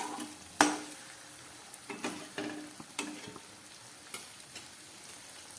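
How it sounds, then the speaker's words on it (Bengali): Katla fish and spice paste sautéed on low heat in a pan for a mustard-oil curry, with a quiet background sizzle broken by intermittent clicks and scrapes of stirring. "কাতলা মাছ আর মশলাটা খুব ভালো করে আমার গ্যাস কমিয়ে কষিয়ে নেওয়া হয়েছে।"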